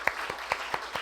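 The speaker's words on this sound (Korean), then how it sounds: "우리 서로를 위해서 한번 격려의 박수하도록 하겠습니다." Church congregation at a Sunday worship service gives a short round of encouraging applause, heard as several faint, evenly spaced claps in under a second.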